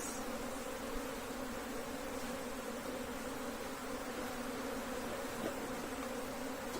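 Honey bees from an apiary hive being split into a new colony, a dense steady buzz of many insects droning continuously close by, with no talking over it.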